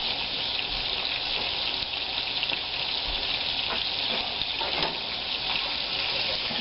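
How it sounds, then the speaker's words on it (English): Small uneven end pieces of homemade bacon fry in rendering fat, a steady dense sizzle with crackling pops, close and continuous. "Just frying up a couple of more little pieces here"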